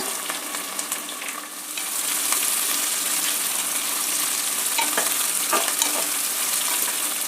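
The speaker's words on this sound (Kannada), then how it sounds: "ಕುಟ್ಟಿಟ್ಕೊಂಡಿರೋ ಕಾಳು ಮೆಣಸು ಮತ್ತು ಒಂದು ಟೀ ಸ್ಪೂನಷ್ಟು ಜೀರಿಗೆ ಇದನ್ನು ಒಗ್ಗರಣೆಯಲ್ಲಿ ಸೇರಿಸೋಣ" Crushed black pepper and cumin sizzle in tempering oil with onion for avarekai khichdi, a dense, even frying hiss that swells louder partway through and carries faint stirring clicks.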